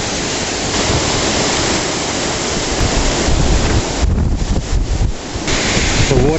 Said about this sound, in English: The water continues to move up the road.